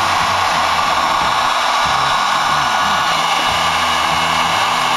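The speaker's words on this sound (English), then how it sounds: "Now I'm going to get a blowgun, or a heat gun." Heat gun blowing hot air onto a Polaris quad's handlebar to fit heated grips, giving a steady, loud, continuous whooshing hiss that runs unbroken throughout.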